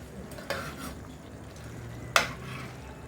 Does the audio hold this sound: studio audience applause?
no